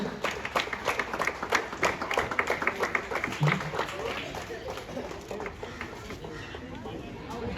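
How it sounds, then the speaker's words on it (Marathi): Audience clapping for a young boy's Marathi Republic Day speech at a school event, a dense run of claps that starts strong, then thins and fades, with voices mixed in throughout. "सर्वांनी जोरात टाळ्या वाजवायचे"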